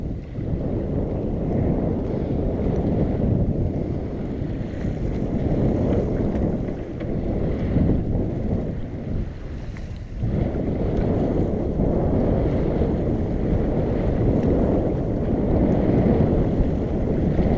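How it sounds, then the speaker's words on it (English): Steady wind roaring across a microphone aboard a sailboat under way, a continuous low rumbling buffet with slight swells in strength and no clear talk. "Hopefully you can hear me over the wind."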